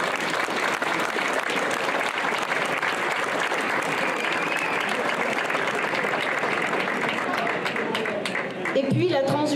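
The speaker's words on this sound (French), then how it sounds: "Et je vous demande de les applaudir." An audience at a St Jean bonfire and transhumance event applauds loudly and continuously for several seconds, the clapping thinning out at the very end.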